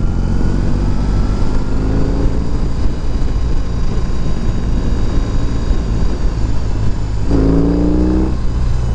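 A BMW R18 motorcycle's engine drones steadily with a rising rev near the end as the throttle is opened, loud and close with no talking.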